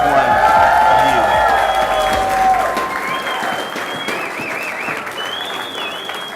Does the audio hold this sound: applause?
yes